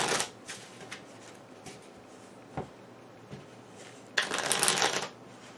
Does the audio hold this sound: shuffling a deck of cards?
yes